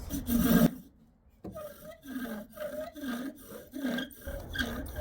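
Rhythmic back-and-forth rasping of a wooden bow drill spindle on a wooden board while making an ember, a steady sawing friction repeating about twice a second after a brief pause near the start.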